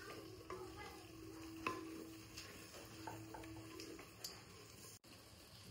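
Mutton cooks in a pot with dry masala of chilli, coriander, cumin and garam masala powders and salt, giving a low steady sizzle with occasional stirring scrapes and clinks close by, no talking.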